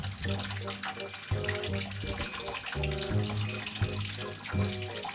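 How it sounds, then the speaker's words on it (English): Water drains out of home plumbing at a water pressure regulator, a continuous rushing, splashing flow with a steady tonal hum underneath, fairly loud and close. "we're gonna let the water drain out of here"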